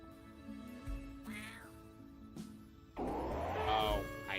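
A cat meows in the video game YIIK, giving two or three short, separate mewing calls amid quiet game sounds, the last one louder and longer, with no clear speech over it.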